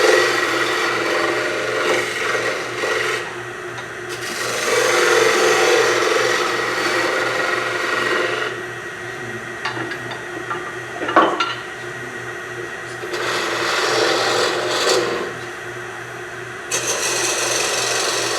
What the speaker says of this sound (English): Get a little round nose scraper, make the curve a little bit better.